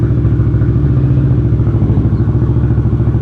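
Loud, close 2020 Kawasaki Ninja 650 sport motorcycle exhaust idling with a steady, deep, lumpy rumble and slight rhythmic pulsing throughout.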